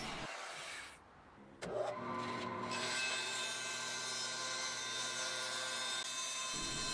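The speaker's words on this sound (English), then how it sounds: "So here using my miter saw and the fret slotting saw blade to cut all the fret slots." A miter saw fitted with a fret slotting blade cuts fret slots into a fretboard for a custom T-type guitar build. A steady, close motor whine and cutting rasp run for several seconds, then stop abruptly.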